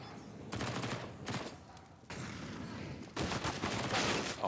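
Gunfire in a Counter-Strike match: several bursts of rapid automatic fire separated by short gaps, fairly close, with the longest spray at the end and a faint commentator's voice underneath.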